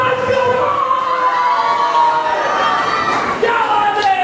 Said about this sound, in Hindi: एक तालियां जोरदार तालियां लगती है